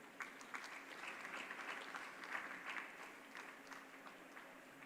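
Applause from an audience at a tech summit, steady and dense clapping sustained for about five seconds, moderately distant with a hall-like wash and no voices standing out.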